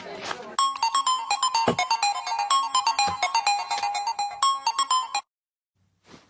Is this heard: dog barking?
no